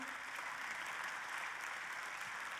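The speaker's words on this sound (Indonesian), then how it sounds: "kita berikan tepuk tangan terlebih dulu" Steady applause from a crowd, dense and even throughout, fairly distant with no voices standing out.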